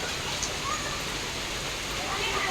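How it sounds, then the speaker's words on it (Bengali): Light rain falling outdoors, heard as a soft, even hiss that holds steady throughout and stays fairly faint. "দেখো বৃষ্টি পড়ছে, সব বৃষ্টিতে খেলা করছে।"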